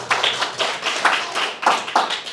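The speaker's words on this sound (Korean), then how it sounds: "박수." A church congregation breaks into applause after a wedding-date announcement: dense, steady clapping from many hands that swells in several waves, fairly close, with no talking over it.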